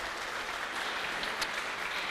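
A conference audience at an open data event gives a warm round of applause, a continuous even patter of clapping at moderate level with no voices over it.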